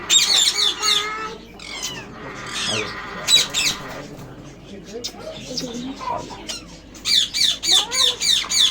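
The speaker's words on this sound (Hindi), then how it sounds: "अफ्रीकन ग्रे है।" An African grey parrot kept indoors gives repeated loud, harsh squawks and whistling calls close by, in bursts with a rhythmic run of calls near the end, while a person talks in the background.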